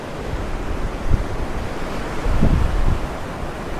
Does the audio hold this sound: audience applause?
no